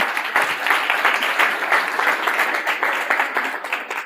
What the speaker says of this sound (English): All right, warm applause now for Urs Bucher.